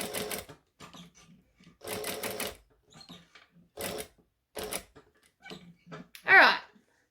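A hand-cranked sewing machine stitches fabric for an appliqué bag. It runs in several short bursts of mechanical chatter separated by pauses, and faint handling noises fill the gaps.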